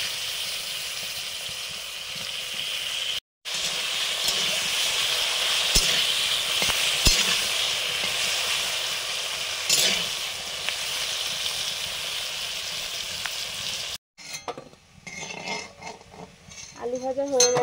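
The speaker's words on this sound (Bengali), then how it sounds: "এখন করছি গোল গোল আলু ভাজা।" Round potato slices fry in a pan of oil at home, giving a steady close sizzle with occasional stirring clinks. The frying stops after a short gap, and a voice speaks near the end.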